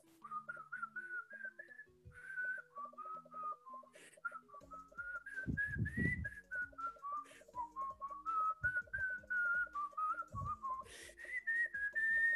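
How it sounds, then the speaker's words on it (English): A lively whistled melody of the Rugrats theme song, clear and bright, carried over bouncy backing music with thumping beats; no one speaks. "that brilliant whistling of the theme song to the Rugrats"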